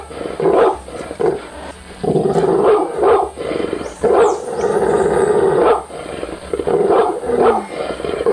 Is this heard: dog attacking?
yes